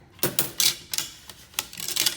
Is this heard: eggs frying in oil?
no